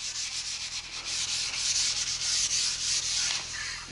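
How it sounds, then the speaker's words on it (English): Close, continuous rasping of sandpaper rubbed back and forth over dried gel varnish on a pallet wood door in quick, uneven strokes, with no voices. "You can tell when the gel varnish is dry enough for sanding because it'll chalk up a little bit."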